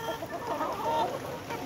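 Nourish layer hens, 245 days old, clucking softly and continuously at close range in a poultry house, with overlapping low calls and no voices.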